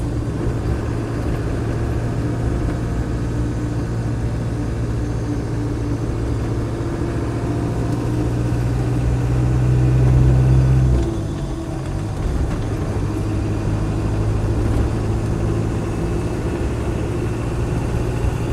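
Land Rover 90 seven-seater with a 200TDi diesel engine, a steady low droning idle with a constant hum, swelling briefly as the revs rise then settling back to idle, continuous and close with no talking.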